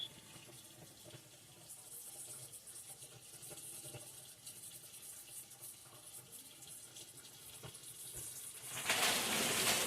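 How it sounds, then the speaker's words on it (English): A kitchen sink tap runs water over a strainer being rinsed, a steady hissing splash that grows louder and fuller at the end, with faint clatter underneath. "I cleaned out my strainer."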